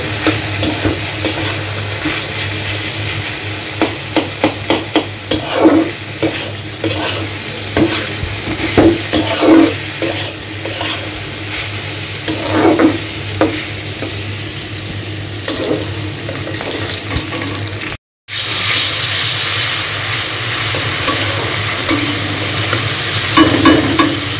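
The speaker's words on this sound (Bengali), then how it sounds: "এখানে করলা ভাজি করে নিচ্ছি।" Bitter gourd (karela) fries in a pan with a steady broadband sizzle, broken by repeated scrapes and clatters of stirring; the sound stays loud and close throughout, with one brief dropout near the end.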